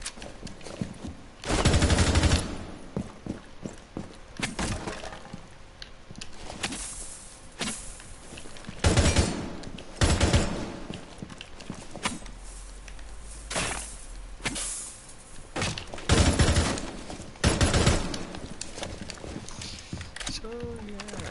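Gunfire during video game aim practice: repeated bursts of rapid shots in clusters across the span, with a voice talking intermittently between them.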